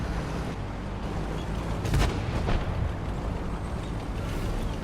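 A single heavy tank gun blast at close range in World of Tanks on console, a boomy burst around the two-second mark with a quick echo after it, set in a steady rumble of engine and battle noise.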